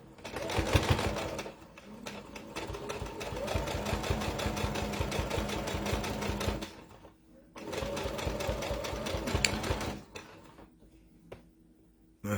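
A sewing machine stitches in long bursts, a rapid, even mechanical chatter that runs loud and close for several seconds, stops briefly, then starts again before falling quiet at the end.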